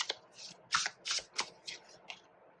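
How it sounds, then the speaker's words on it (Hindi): A tarot card is drawn from a deck, producing a quick series of about eight crisp, papery flicks and slides in an uneven rhythm, close and fairly quiet. "ओके, एक और कार्ड निकालते हैं यहाँ पे।"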